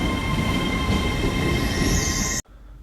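An LNER Azuma train departing Doncaster, with a steady rolling rumble and rail noise heard from onboard, a high whine rising near the end before the sound cuts off abruptly.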